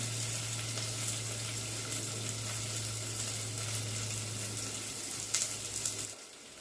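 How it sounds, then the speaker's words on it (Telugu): Green chillies and onions frying in hot oil in a pot, a steady close sizzle with a low constant hum underneath, ending abruptly near the finish. "ఆయిల్ వేడెక్కింది పచ్చిమిర్చి ఉల్లిపాయలు ఆయిల్లో వేసుకుందాం"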